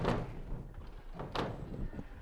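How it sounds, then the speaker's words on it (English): A knock or bump at a door during a Halloween trick-or-treat visit, two short muffled impacts about a second apart, fairly close and moderately loud, with no talking. "I hear something at the door."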